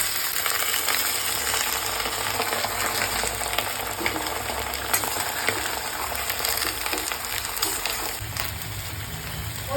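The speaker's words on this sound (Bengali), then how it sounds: "এবার আমি নেনুয়া গোনা দিয়ে দেবো।" Chopped nenua (sponge gourd) frying in a kadai, a steady moderate sizzle with a few light stirring clinks and scrapes, no talk.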